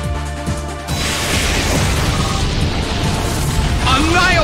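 Explosion attack in the video game Pokémon Battle Revolution: after a short opening, a loud, broad crashing blast erupts and roars on for several seconds, with a commentator's voice over it.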